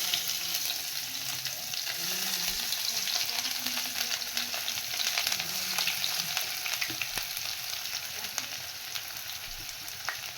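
Chopped onions fry in a pan with a continuous, even sizzle that holds steady throughout, fairly quiet and close, with no talking.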